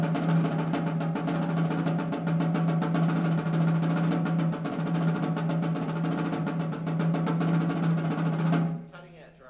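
A percussion ensemble at a percussion festival clinic plays a roll exercise: a dense, steady stream of rapid strokes held at an even, loud level for about nine seconds before stopping abruptly.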